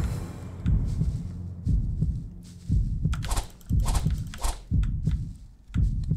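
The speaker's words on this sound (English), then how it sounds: "that's a loud heartbeat noise" Heavy low heartbeat effect from the video game Terra Incognita, loud and close, thumping in paired beats roughly once a second over a soft hum.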